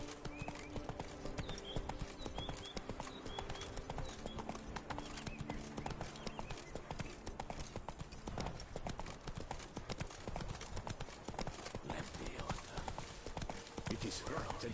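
Horse galloping in The Witcher 3, its hooves pounding in a fast, steady clip-clop that runs continuously at close range, with voices and game ambience mixed underneath.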